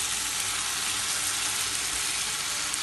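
Chicken masala for biryani roasts in a pan with a steady, dense sizzle that holds evenly throughout, close and loud, with no voices.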